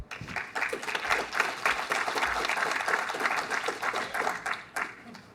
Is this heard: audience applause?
yes